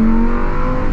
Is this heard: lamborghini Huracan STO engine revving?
yes